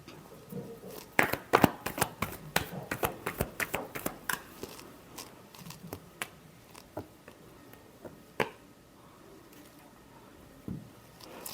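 Tarot cards are shuffled by hand in a rapid run of crisp riffling and flicking bursts, dense at first and thinning out toward the end, close and fairly quiet.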